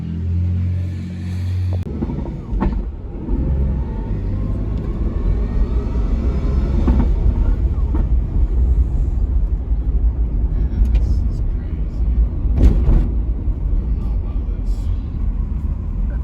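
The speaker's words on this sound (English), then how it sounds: "I'm gonna go for a ride for the first time in a right-hand drive." Cabin of a right-hand drive car on the move, with a steady low road and engine rumble throughout, a brief louder passage near the start, and people talking faintly over the drone.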